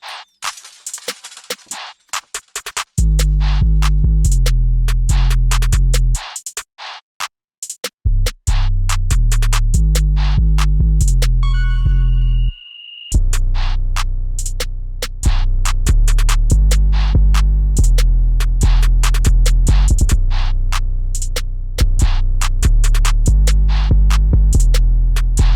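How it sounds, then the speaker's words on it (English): A loud trap beat with heavy booming bass, rapid hi-hats and punchy percussion, briefly dropping out before building back in and driving steadily. "all the drums, percussion, sound effects, all that's gonna sound like this, building up into the beat"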